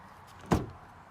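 Rear doors of a 2020 Ford Transit 350 XL passenger van with EcoBoost unlatch, giving one sharp mechanical clunk midway through an otherwise quiet stretch.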